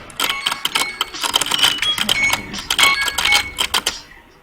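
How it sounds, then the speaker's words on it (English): A cash-register-like alarm chimes and clatters in a rapid burst of bright, metallic dings, loud and close with no voices over it. "That was my alarm to let you guys know."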